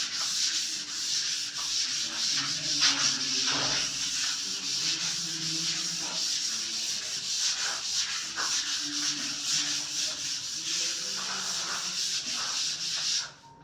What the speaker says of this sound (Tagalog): Liha tayo mga lods.